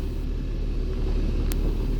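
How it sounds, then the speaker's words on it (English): A truck and trailer that hauls boats between boatyards in southwest Florida gives a steady, loud low rumble throughout, like a nearby idling engine, with a brief high hiss partway through. "This is the truck and trailer that's used to transport the boats between the two yards."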